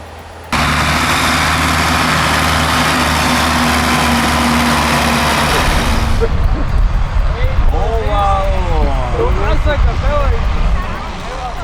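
A Case IH 7240 Magnum tractor drags a truck, its engine a loud, steady roar for about six seconds, followed by quieter engine noise under someone narrating.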